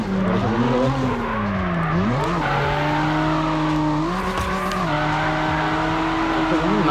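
A drifting car in CarX Drift Racing 3 holds a loud, steady engine drone that rises and falls with throttle changes, with sustained tire squeal layered on top throughout.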